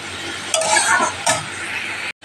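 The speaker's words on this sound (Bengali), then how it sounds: "আর এখানে চিতা করলা ভাজা বসিয়েছি।" Bitter gourd fries in a pan with a dense, close sizzle, and a couple of louder bursts come from stirring or turning the pieces. No one talks.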